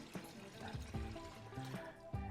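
A quart of rinseless car wash liquid poured into a container, a faint close gurgle with repeated glugging bursts as the liquid flows out, and no voices over it.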